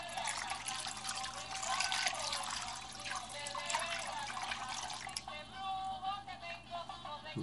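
Goat's milk being stirred by hand into bath water in a basin, giving a steady close trickling and sloshing of liquid with small splashes throughout, without speech.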